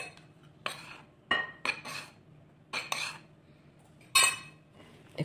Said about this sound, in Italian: Mescolate.